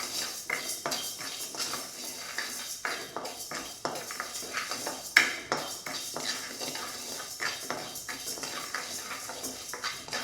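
Toor dal dry-roasting in a pan under constant stirring, a rapid series of close metallic scrapes and light clinks of a ladle against the pan bottom with almost no sizzle, no speech.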